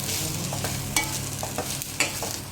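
Cluster beans curry with garlic and chilli sizzles over low heat in a pan, with a soft steady fry and several sharp clicks and scrapes as a utensil stirs it.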